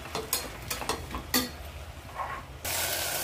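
Fenugreek leaves fry in hot oil in a pan with a steady sizzle broken by scraping stir strokes, and a louder burst of hissing comes in at the end.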